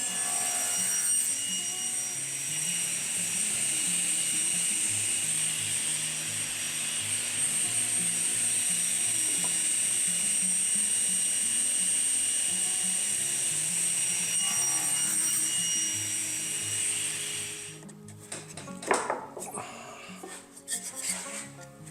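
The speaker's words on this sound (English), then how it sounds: "So we use the crosscut sled to cut it this way" A saw with a crosscut sled cuts cherry wood boards in a workshop, giving a long steady high whine that winds down near the end into scattered clatter and knocks.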